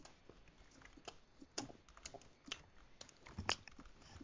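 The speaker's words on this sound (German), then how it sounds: "Ich esse in der Aufnahme." Someone eating close to the microphone during a gaming session, irregular crunchy bites and chewing clicks scattered across a few seconds, quiet overall with sharper crunches near the middle and end.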